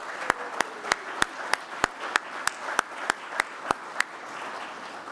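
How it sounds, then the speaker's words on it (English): A single pair of hands claps in a slow, regular rhythm, about a dozen sharp claps close to the microphone over a faint murmur, at an engineering awards ceremony. "Let's give them a round of applause as well."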